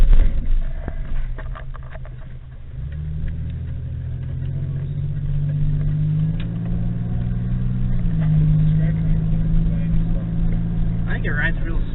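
A steady, low engine drone and road rumble come from a car cruising down a back road, either a 1996 Grand Prix or a 1965 Buick Special, with the pitch rising slightly as it accelerates and people talking faintly inside.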